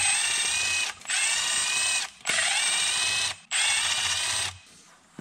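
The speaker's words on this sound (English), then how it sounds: "13 millimeter will remove the 6 bolts that hold the crank pulley on." A ratchet with a 13 mm socket loosens the crank pulley bolts on a Dodge Ram 3.9 or 5.9 engine, giving three long, loud, steady bursts of clicking with brief pauses between them and no talk.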